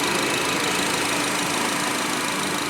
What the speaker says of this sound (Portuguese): o veículo já está funcionando, como vocês podem ver, está com as bobinas de teste da oficina